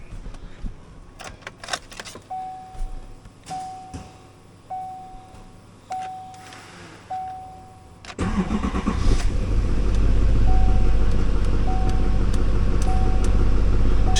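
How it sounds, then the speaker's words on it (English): A 2013 Silverado 2500HD LTZ with a Duramax 6.6L diesel, 223,060 miles: keys jingle and a chime repeats, then the engine cranks and catches around eight seconds and settles into a loud, steady diesel idle while the chime continues. "we can go ahead and get this Duramax running so you guys can hear"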